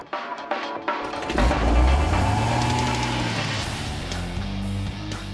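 A 2009 Porsche Cayman engine starts after a second of near silence, then revs up in a rising, then falling sweep before it settles into a loud, steady idle close by.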